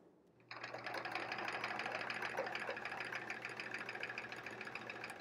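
A sewing machine kicks in after a brief pause and runs steadily with a fast, even mechanical whir and needle patter, stitching free-motion quilting through thick batting in a quilt-as-you-go block.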